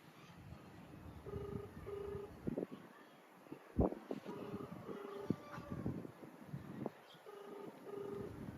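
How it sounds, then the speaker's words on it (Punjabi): A phone call rings out unanswered, with repeated paired ringback tones in a regular pattern, quiet and slightly distant, with faint background noise between. "ਫੋਨ ਨਹੀਂ ਚੁੱਕਿਆ ਫੇਰ ਕਰਾਂ ਇੱਕ ਵਾਰ"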